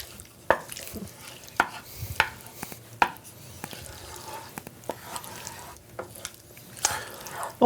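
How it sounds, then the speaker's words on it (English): Melting cheeses stirred in a warm pan, a series of close, sharp spoon taps and scrapes against the pan at an irregular rhythm, with soft sticky squelches between and no speech. "Now we're going to give this a stir just to combine."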